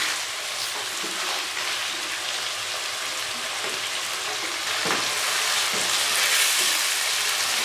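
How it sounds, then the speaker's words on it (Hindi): Steady, dense sizzling of chicken frying in a hot pan for white chicken karahi, crackling continuously without pause and growing slightly louder toward the end. "इसको हम 5 मिनट तक इसी तरह फ्राई कर लेंगे।"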